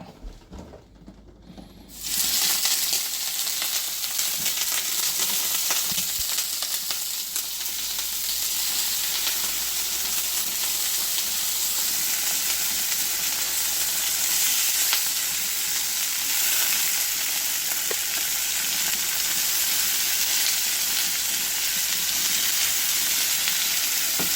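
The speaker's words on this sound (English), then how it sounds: "All right, got the oil in the pan. It's time to sear now." Oil sizzles loudly and steadily in a pan as beef chuck sears for Korean kalbi jjim, a continuous close hiss that begins after a brief quiet moment and holds evenly to the end with no talking.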